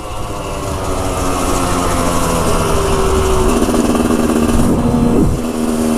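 A dirt bike engine at Hollister Hills revs loudly and steadily up close, its pitch climbing and dipping as the throttle twists, with a rising whine toward the end before easing off.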